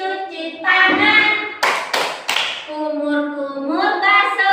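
A group chants in unison during a wudu (ablution) lesson and claps along, three sharp, close claps landing mid-phrase under the sung voices.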